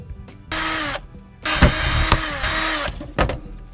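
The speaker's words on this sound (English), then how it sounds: "Now for the bigger drill." A larger power drill fitted with a step bit whines through a bore in bursts, revving up and down in three close, loud runs separated by short pauses.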